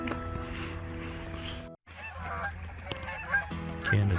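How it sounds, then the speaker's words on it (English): Canada geese honk outdoors near water in November, a flock's repeated nasal calls carrying at moderate distance, with a brief gap partway through. "Canada geese."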